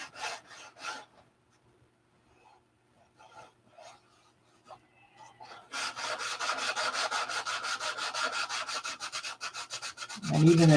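Wood being sanded by hand without a block, a quiet scattering of scrapes early on, then steady rapid back-and-forth rasping strokes that grow loud and continuous, close up.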